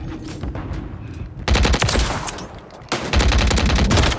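Shotgun fire in Call of Duty Modern Warfare III: two loud, close clusters of blasts and rapid gunfire erupt after a quieter opening, each burst dense and booming before trailing off.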